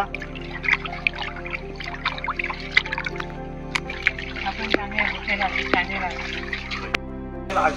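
Cold spring water trickles and splashes steadily at a natural spring in the Konkan, with people talking nearby over the flow.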